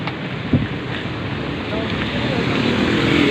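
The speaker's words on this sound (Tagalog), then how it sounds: "Lakas na ng ulan." Heavy rain pours down on a cyclist caught in a downpour, a dense, steady roar of broadband hiss that grows slightly louder toward the end, with a brief knock near the start and wind buffeting the microphone.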